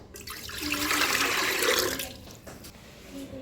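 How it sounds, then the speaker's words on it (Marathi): Water gushes and splashes into a metal pressure cooker for a couple of seconds, then trickles and drips quietly, with no voices. "कुकरमध्ये आहे ना पाणी टाकते एक तांब्या"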